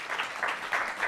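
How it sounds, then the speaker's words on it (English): Brief audience applause at an alumni event after a panel, a short burst of clapping rising and falling in small surges over about a second. "A round of applause"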